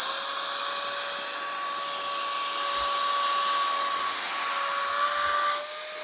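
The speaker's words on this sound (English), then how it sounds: "if we wanted to deflate this, okay, we put it on the deflator side" Electric air pump on its deflate setting hooked to an inflatable's valve, giving a steady high-pitched whine and airy hiss that runs continuously and loudly with no talking.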